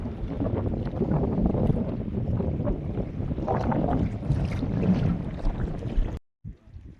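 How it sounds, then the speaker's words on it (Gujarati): Strong wind buffets a fishing boat at sea while prawns are being hauled in, a steady rushing roar that cuts off abruptly near the end. "પવન છે ને માથે પાછો."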